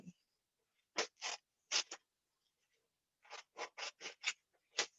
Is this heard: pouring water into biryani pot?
no